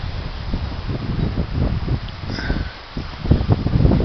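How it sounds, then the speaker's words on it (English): Steady gusting wind on a cold February day roars across the microphone, a low rumbling buffet that swells and dips throughout with no voices. "it's windy, it's cold"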